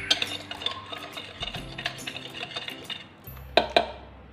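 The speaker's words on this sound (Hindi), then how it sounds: "ये सारे स्पाइसेस को अच्छे से मिक्स कर लेते हैं।" Spoon clinking and scraping in a bowl while black pepper, white pepper powder and mixed herbs are mixed together as a chicken coating, with steady small clinks, a couple of sharper taps near the end, close and fairly quiet.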